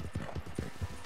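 Horse hooves clip-clop at a steady trot while riding in Red Dead Redemption 2, close and evenly spaced, with a soft low rumble underneath.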